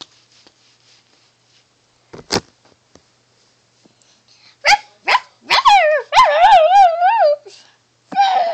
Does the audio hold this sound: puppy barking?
yes